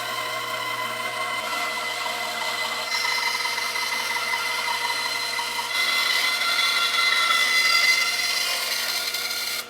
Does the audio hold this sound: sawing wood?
yes